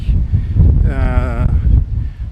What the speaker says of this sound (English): It's very windy today, by the way, but I'm using my external mic.